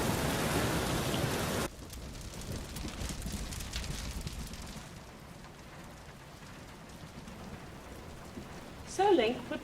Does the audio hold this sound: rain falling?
yes